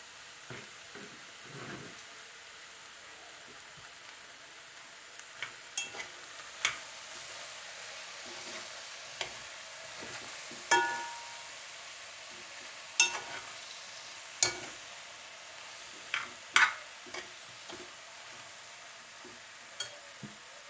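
Garlic added to a hot pan and frying: a faint, steady sizzle runs throughout, broken by scattered scrapes and taps of a utensil stirring, with no voices.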